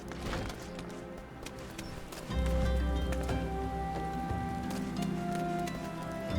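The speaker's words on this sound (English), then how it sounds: "Oh, I hear rain. It be raining." Steady rain in the video game Final Fantasy XIV patters on a surface, with a low rumbling layer joining partway through and faint tonal sounds in the background.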